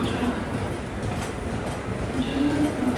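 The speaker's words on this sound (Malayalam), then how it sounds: "ഇത് തന്നെയാണ് കോലാപൂരിൽ നിന്ന് തിരുപ്പതിയിലേക്കുള്ള ഹരിപ്രിയ എക്സ്പ്രസ്" Haripriya Express, a Kolhapur to Tirupati train, rolls past on a Mumbai station platform, giving a steady, loud rumble of wagons with faint wheel clatter and no break in the noise.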